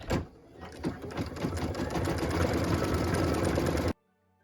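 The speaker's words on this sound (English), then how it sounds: "What we're stitching now is that cute holly detail on the stamp." Embroidery sewing machine stitching a holly leaf detail on a Christmas ornament, a fast steady mechanical chatter of needle strokes, close and loud, running about four seconds before stopping abruptly into silence.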